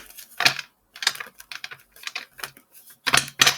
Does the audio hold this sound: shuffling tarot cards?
yes